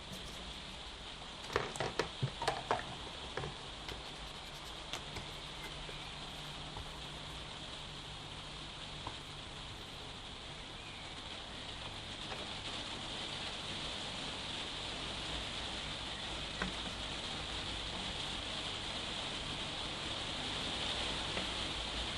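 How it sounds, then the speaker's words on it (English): Steady rain patters on a roof in a soft continuous hiss, with a few louder taps and knocks early on and no voices. "It's raining outside, so you can still hear me above the rain just hitting the roof."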